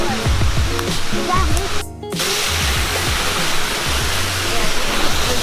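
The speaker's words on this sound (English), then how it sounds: "We're at the waterfall right now." A waterfall at night roars as a steady, broadband rush of falling water close by, with faint voices murmuring beneath the constant noise.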